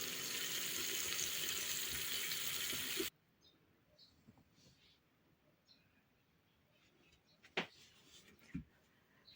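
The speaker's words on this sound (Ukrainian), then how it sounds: "Ось так накладаю друшляк і потім під проточною водою промиваю" Dill rinsed in a colander under running tap water at a kitchen sink, a steady loud rush of water for about three seconds, then the flow stops, leaving quiet room noise broken by a couple of faint drips or clinks.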